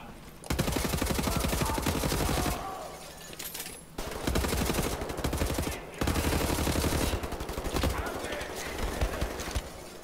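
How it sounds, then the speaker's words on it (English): Automatic assault rifle fire from the shooter game Wolfenstein: The New Order rattles in long, loud, rapid bursts separated by brief pauses. "Assault rifles."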